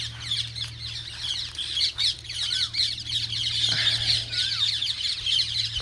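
Parrots feeding on movda fruit in a tree in a village give out repeated harsh squawks and chirps, fairly loud and near, over a constant low hum, with no talk.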